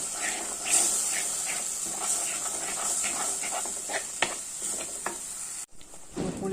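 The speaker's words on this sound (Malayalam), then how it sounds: "ഇളക്കിയെടുക്കാം." Fish curry masala, seer fish (neymeen) with its spice paste, stirred in a pan over low sizzling, with soft scraping strokes spread through the clip and a brief dropout near the end.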